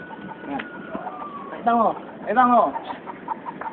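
Chickens cluck and make short, throaty calls close by in a yard, heard over brief human speech.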